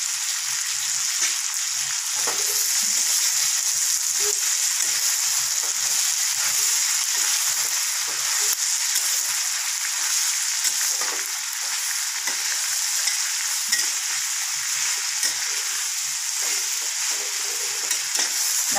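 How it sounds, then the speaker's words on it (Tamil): Green masala with washed mint and coriander leaves sautés in a pan, a loud, steady, hissing sizzle lasting throughout with light stirring movements and no speech. "நம்ம மசால் நல்லா வதக்கி எடுத்துக்கலாம்"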